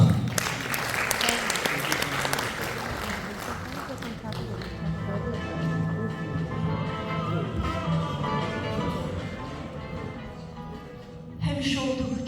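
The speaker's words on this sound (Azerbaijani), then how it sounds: "Alqışlarınızla." Audience applause at an evening jubilee concert in Azerbaijan, with a dense, steady clapping filling the hall for about eleven seconds before briefly swelling again near the end.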